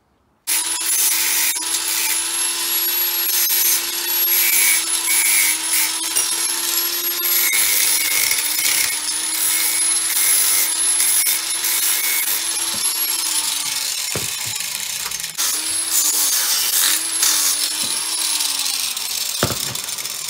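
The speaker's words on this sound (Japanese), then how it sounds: "でこれでちょっと磨いてみます" A custom metal guard on a Kawasaki Estrella motorcycle being polished with a rotary power tool, a loud steady whirring grind that runs continuously for about twenty seconds with slight pitch dips near the end.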